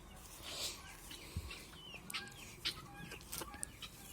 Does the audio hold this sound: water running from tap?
no